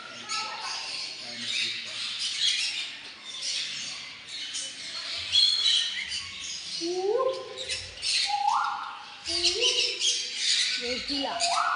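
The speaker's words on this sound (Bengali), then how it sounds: "পাখি" Several birds give short squawking and rising chirp calls over a constant broadband background hiss, with the calls growing more prominent and closer toward the end.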